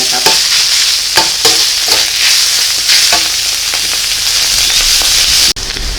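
Sweet preserved radish is dry stir-fried in a pan with little oil, giving a steady close sizzle and scraping stir strokes throughout, with a brief break near the end.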